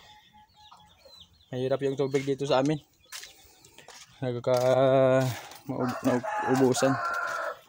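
Free-range hens cluck and call loudly in bursts close by, mixed with someone speaking over them.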